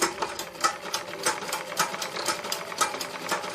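A sewing machine stitches fabric up close, a fast, even rhythmic chatter of needle strokes running steadily throughout with no talking.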